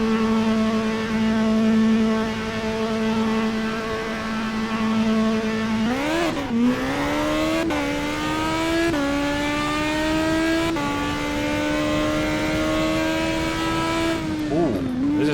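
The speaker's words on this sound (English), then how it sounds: "So this is a seriously quick formula car." The engine of a very quick formula car in the Netkar Pro racing sim holds a steady drone, then revs climb repeatedly through shifts with sharp downshift blips, loud and continuous with no voices.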